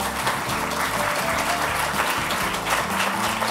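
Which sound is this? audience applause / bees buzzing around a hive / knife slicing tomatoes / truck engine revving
audience applause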